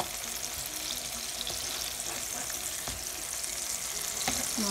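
Pangash fish pieces fry in a pan with a steady, dense sizzle and spatter, punctuated by a few sharp clicks of a utensil turning or lifting the fish.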